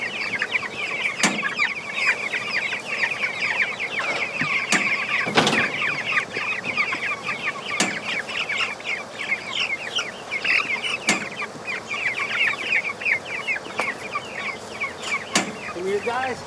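Many Cornish Cross chickens cluck and peep continuously as a flock, with scattered sharp knocks and rustles nearby.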